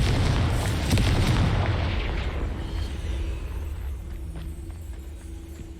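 A Confringo spell explosion in Hogwarts Legacy booms loudly, then a long low rumble decays steadily over several seconds with no talking.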